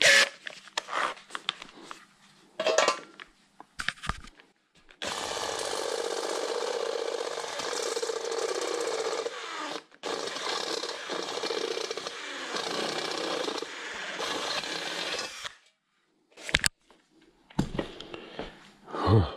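A work drill grinds through metal on a Royal Enfield Meteor 350 bobber project, a long continuous whirring bore lasting about ten seconds, bracketed by shorter bursts and clicks of the tool starting and stopping, close and loud.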